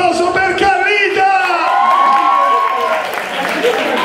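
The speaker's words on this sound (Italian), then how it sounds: "Voglio l'applauso per Carlita!" An indoor crowd at a fan's birthday surprise breaks into applause and cheering, with whoops and a voice calling out over the clapping, loud and close throughout.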